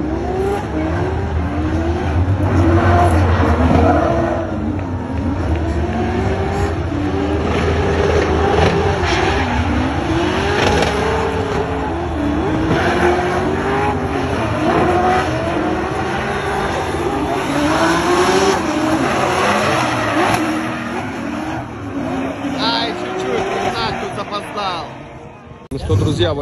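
Drift cars make a competition run at a championship stage, engines revving hard and rising and falling throughout with tire squeal, loud and continuous. A commentator talks over the noise.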